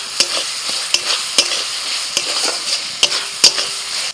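Chopped tomato frying with ground spices, salt and a splash of water, sizzling steadily while a spoon strikes and scrapes the pan in sharp, repeated clacks.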